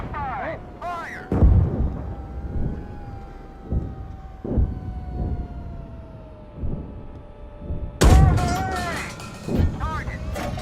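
Tank main gun shots in the game GHPC sound as heavy booming thumps, one loud blast followed by a dull rumble, set against crew voices calling commands and a steady engine drone.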